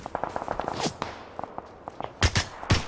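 Gunfire in the video game PUBG Battlegrounds comes as a rapid run of sharp cracks, followed after a pause by a few louder, heavier shots.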